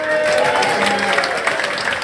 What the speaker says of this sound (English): a big round of applause for all the volunteers who put the night on